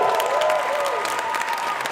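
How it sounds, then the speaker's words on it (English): Applause rises for the women's podium at a cup series finals, a crowd clapping steadily while a voice cheers and whoops over it. "One last big round of applause for the woman podium"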